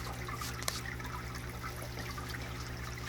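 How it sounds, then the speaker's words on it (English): Water drains steadily from a backyard guppy pond, a continuous trickling wash with a low steady hum from a pump underneath, close and even throughout. "So I'm gonna have to drain the guppy pond out."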